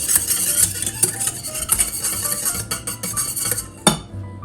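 A utensil stirs custard base steadily in a pot, with continuous scraping and light metallic clinks, ending in a single sharper clink.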